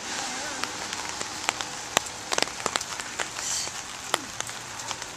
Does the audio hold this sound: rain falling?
yes